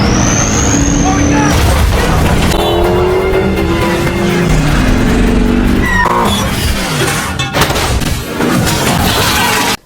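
Car chase scene from an action film: a car skids and rolls over with loud, dense crashing and engine roar throughout, sharp impacts and tire scrapes, ending abruptly.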